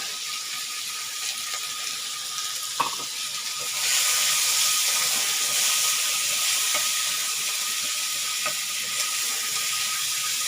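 Onions and tomatoes with a little tamarind sizzle steadily in a pan for chutney, a continuous hiss that swells louder partway through, with a few faint clinks of stirring.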